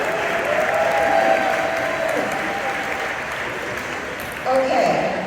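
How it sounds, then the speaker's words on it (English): Audience applauding the event team at a Hack your Health 2024 health conference, steady sustained clapping from a crowd with a brief swell of cheering near the end. "So another round of applause for them."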